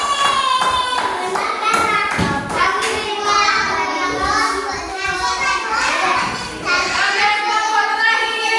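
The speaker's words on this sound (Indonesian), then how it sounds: "tepuk tangan untuk kelompok 4" Classroom applause for a pupil group, with children's voices chattering loudly over scattered clapping and taps throughout.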